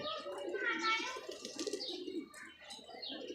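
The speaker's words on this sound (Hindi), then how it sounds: "तो जी छठा कबूतर।" Pigeons cooing in a loft, a soft, steady throaty warble with faint chirps running throughout the short stretch, fairly close and continuous.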